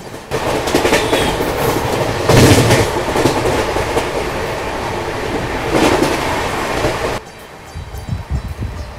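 A double-decker express train races past a station platform at about 130 km/h, a loud, steady rumble of wheels and carriages with rhythmic clatter and brief surges, ending abruptly as the noise drops away.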